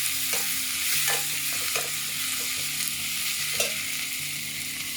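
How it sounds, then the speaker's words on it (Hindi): Onions and tomatoes cooking in a pan for masoor dal, with a constant loud sizzle and a few soft scraping strokes of stirring up close. "यहाँ पर प्याज और टमाटर पकना शुरू हैं।"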